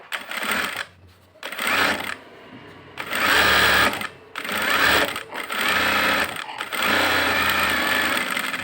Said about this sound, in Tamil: இப்போ மேல் படிமான தையல் போடுறோம்.